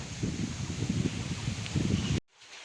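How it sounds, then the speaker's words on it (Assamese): Strong wind blows through trees during light rain on a rainy day in Assam, a steady rushing roar with gusty surges that cuts off abruptly near the end. "চিপ চিপকৈ বৰষুণ দি আছে আৰু বতাহ মাৰি আছে, পূৰা বতাহ মাৰি আছে"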